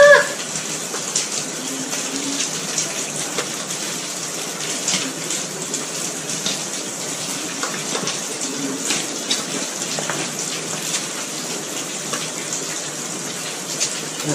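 Water running steadily in a rural home in Carmen, Bohol, a continuous broad rushing stream heard alone throughout, fairly loud and close.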